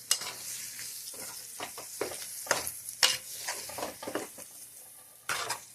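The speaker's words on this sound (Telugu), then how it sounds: "ఇప్పుడు ఉడికించిన ఆలుని బండిలో వేసుకొని బాగా కలియబెట్టుకోవాలి" Boiled potatoes are stirred as they fry in an iron kadai with green chillies, a steady sizzle broken by repeated close scrapes and knocks of a spoon against the pan, with no talking.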